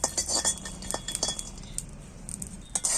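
Peanuts dry-roasting in a pan, heard as close, scattered metallic clinks and rattles of nuts and a utensil against the pan in irregular bursts, with no talking.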